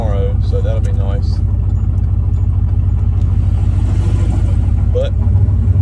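A 2012 Chevrolet 2500HD truck with a turbocharged 6.0 engine and loud exhaust idles and revs with a steady deep rumble close by, while a person talks over it.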